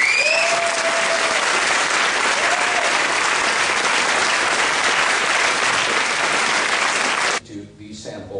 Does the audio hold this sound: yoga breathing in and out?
no